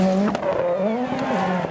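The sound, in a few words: Peugeot rally car racing over a jump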